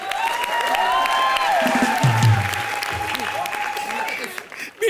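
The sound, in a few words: studio audience applause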